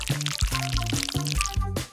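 Water poured into a bowl for a balloon-and-tissue craft, a short bubbling pour in a few quick glugs, close and fairly loud with no talk.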